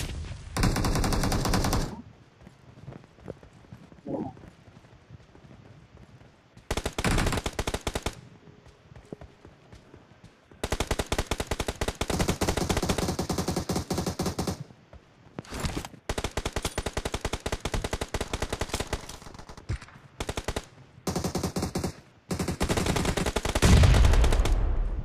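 Gunfire in PUBG Mobile played on a Poco M2 phone: repeated bursts of rapid automatic fire separated by short quiet gaps, crisp and close, with single shots and reload pauses between.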